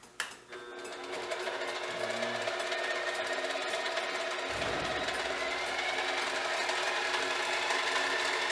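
Eureka gear cutter continuous relieving machine running steadily after being plugged in, a constant whirring mechanical drone with rattling texture starting within the first second and holding at even level.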